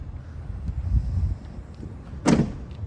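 A Ford Bronco tailgate swung shut, a single solid thud after a stretch of low rumbling handling noise, close by.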